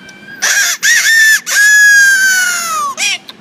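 A man blows a whistle to mimic a rooster crowing: a few loud, close squawking bursts leading into one long drawn-out crow and a short final call, with no talking.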